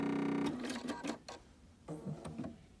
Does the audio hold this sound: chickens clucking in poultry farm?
no